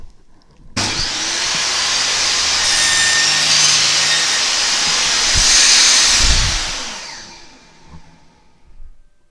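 Table saw cutting a half lap joint in wood against a stop block, a loud single pass: the blade whines up sharply, holds a steady roaring cut for about five seconds, then spins down and fades.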